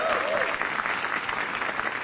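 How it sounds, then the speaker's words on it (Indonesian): Dense, steady applause from a stand-up comedy audience at a televised MetroTV show, a continuous wash of many hands clapping close and fairly loud with no talking over it. "Yang ngerayain tahun baru mana tepuk tangannya?"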